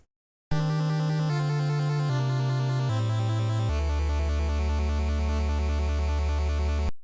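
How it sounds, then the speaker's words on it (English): Bright, buzzy NES 8-bit chiptune chords step down through a few quick changes, then settle on a long held tone. The notes are rapidly arpeggiated. "The NES version had less polyphony and had to compensate by"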